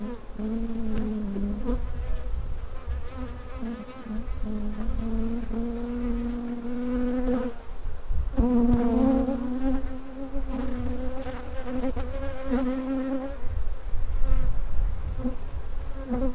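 Honeybees buzz loudly and continuously in an open hive near the middle of the brood nest, a dense, close, wavering drone of many wings that never lets up.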